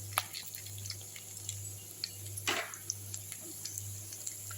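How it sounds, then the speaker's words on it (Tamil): Mustard seeds, urad dal, dried chili and cumin temper in hot oil for mukkirattai greens, giving sparse, scattered pops and light crackles over a low, steady hum. "இப்போ இந்த கீரைக்கு ஒரு தாளிப்பு கொடுத்துடலாம்"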